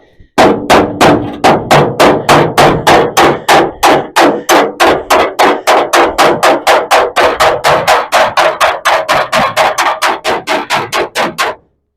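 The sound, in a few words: hammer panel beating metal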